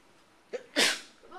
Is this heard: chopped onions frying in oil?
no